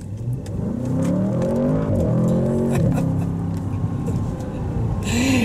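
A 2024 Audi S8 sports sedan engine revs up hard from a rolling start, pitch climbing through gear changes, loud and close with a steady mechanical roar and brief shifts in tone.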